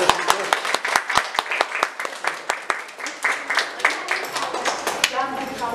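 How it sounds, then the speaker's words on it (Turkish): Applause at a chess tournament: a short burst of scattered, sharp hand claps from a small audience, fairly close, rising and falling over a few seconds, with a voice speaking at the end. "büyük bir alkış alıyoruz arkadaşlar."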